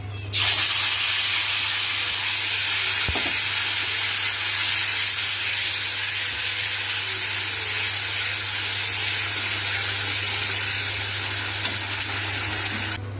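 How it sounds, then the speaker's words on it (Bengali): A paste of onion, ginger, garlic and cumin fries in oil with a bay leaf, giving a loud, even hiss that runs unbroken throughout, with one soft knock partway and no talking. "সেই মশলাটাই আমি এই যে তেজপাতার ফোড়ন দিয়েছি এতে দিয়ে দেবো"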